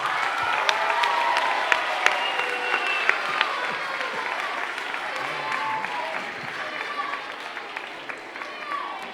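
An audience, including children, gives a big round of applause for the children's council representatives at a town plenary session, with sustained clapping, scattered louder individual claps and cheering, and voices murmuring and calling out throughout.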